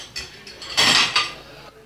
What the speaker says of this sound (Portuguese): Vamos lavar a louça.